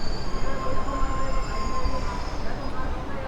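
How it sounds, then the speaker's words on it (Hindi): A metro train rumbles past near a stopped local train on the outskirts of Delhi, a continuous loud roar with a faint metallic wheel squeal running through it. "धड़ाधड़ मेट्रो आ रही है,"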